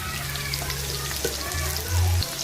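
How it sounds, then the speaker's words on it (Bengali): Potatoes fry in a pan during home cooking of a chicken curry, giving a steady close sizzle with a low hum beneath and a louder burst near the end, with no talking. "এদিকে আলু ভাজতেছি"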